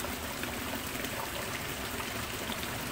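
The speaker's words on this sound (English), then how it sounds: "Trio Fountain from Eddie's Aquarium and the Water Garden Company" Oase Living Water Trio Fountain splashing steadily, a continuous close wash of falling water with no pauses and no voices.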